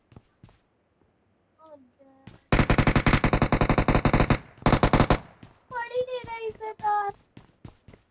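Rapid automatic gunfire bursts out in PUBG on the Erangel map, two loud sustained volleys of fast shots separated by a brief gap, followed by electronic game tones and chirps, after some quiet clicks.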